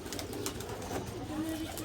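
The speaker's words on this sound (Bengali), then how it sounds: "এইগুলো সব আমার উড়াল কবুতর" Soft, low cooing from a loft of domestic flying pigeons, faint and steady, with a person speaking quietly over it.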